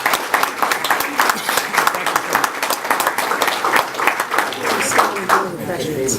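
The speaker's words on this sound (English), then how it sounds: "Let's give them a round of applause." Audience applause at an education partners reception, as business partners stand to be recognized; steady, dense clapping from a sizable crowd lasting several seconds, fairly close and even in level.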